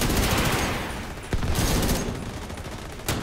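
Sustained video game gunfire aimed at a balcony during a raid: dense, continuous shooting with a few sharper bursts standing out, loud and close throughout.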